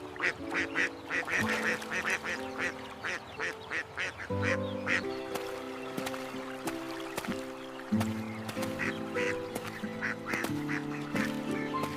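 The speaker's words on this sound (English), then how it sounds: "Hello, little ducks." Ducks quack repeatedly at a pond in a simple scene, rapid runs of nasal calls close by over a steady musical backdrop, loud and continuous throughout.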